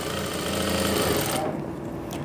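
Sewing machine stitching fabric toward buckram, running with a loud, close, rapid mechanical chatter that stops abruptly partway through.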